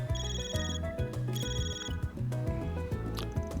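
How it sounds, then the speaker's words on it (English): A phone ringing in the video game Trails through Daybreak, a bright electronic ringtone repeating its short melodic pattern several times, clear and close, with no voices. "My stupid phone?"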